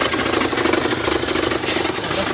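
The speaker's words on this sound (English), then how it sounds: "And I think we have a alternator that's binding up." Ford Explorer engine running with a binding alternator, a loud, steady mechanical clatter with a rapid knocking rhythm throughout, close up.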